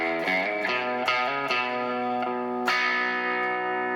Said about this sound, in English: I differentiate it a little bit by doing a slide to the 4 on the low E